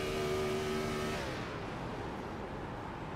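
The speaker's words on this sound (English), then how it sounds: "We just heard fuel saving into 1 and 2 from Jake Forster." A Gen 4 stock race car engine at Auto Club drops from a steady high drone to a rougher, lower idle-like rumble as the driver lifts off to save fuel, loud and close throughout.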